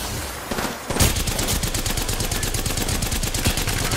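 Dense, rapid gunfire from a video game shooter with recoil turned off, a loud continuous fusillade of closely spaced shots running nearly the whole time.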